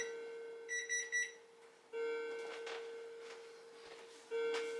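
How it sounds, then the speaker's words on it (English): A kitchen-style timer alarm beeps in quick bursts, then rings out in a sustained electronic tone that stops and starts again, fairly quiet and close, with no talking. "So that was my clock and that was my timer."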